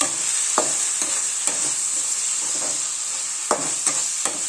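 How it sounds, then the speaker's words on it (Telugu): Vegetables fry in a pan with Schezwan, red chilli, green chilli and soy sauces for veg fried rice: a steady close sizzle with periodic scraping stirs of a spatula, no talking. "ఇప్పుడు ఇందులో schezwan sauce, red chilli sauce, green chilli sauce, soya sauce అన్నీ వేసుకోవాలి. వేసుకొని వేయించాలి."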